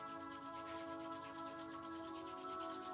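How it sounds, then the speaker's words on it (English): Palms rubbed briskly together in a circular motion, a steady, close, continuous friction swish with rhythmic pulsing and no talk. "bring your palms together and rub them in a circular motion, building up heat and fire in between"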